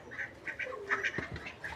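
Ducks quack repeatedly in a rural Bangladeshi village setting, several close, bursty calls overlapping in an irregular rhythm against faint outdoor background.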